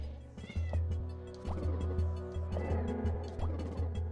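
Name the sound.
cat meowing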